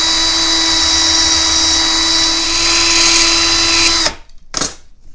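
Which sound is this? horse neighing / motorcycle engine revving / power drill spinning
power drill spinning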